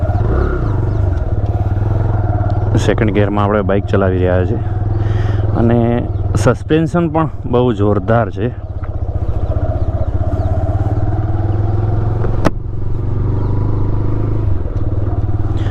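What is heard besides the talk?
TVS Raider 125 motorcycle riding in second gear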